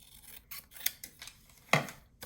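Scissors snip through paper several times in quick, close strokes, with one sharper, louder cut near the end, in a quiet crafting setting.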